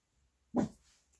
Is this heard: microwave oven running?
no